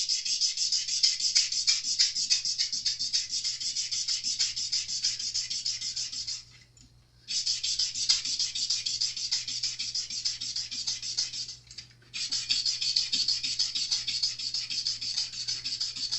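Long rhythmic strokes of sanding abrasive rubbing across Fender Telecaster guitar frets during fret leveling, close and steady, with two short pauses between passes.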